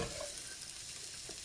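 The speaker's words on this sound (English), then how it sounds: "now I have to cook the onions and the mushrooms" Onions and mushrooms frying in oil in a pan for a beef pie, a faint, steady, close sizzle with no voices.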